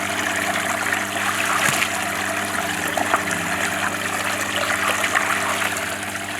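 Water rushing and splashing while a pond filter is rinsed out, a steady close trickling flow with a faint hum underneath and no talking.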